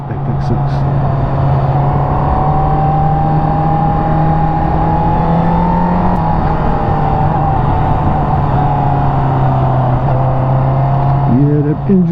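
A 2021 Honda CBR1000RR motorcycle engine braking, a loud steady engine drone with a sustained low tone that dips slightly as revs fall, heard close up with wind rush over it.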